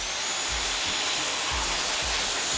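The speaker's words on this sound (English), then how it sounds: "So you can use a hose or a pressure washer." A pressure washer or hose rinses loose dirt off a car before washing, giving a steady, loud broadband hiss of spraying water with a few low thumps, and no voices.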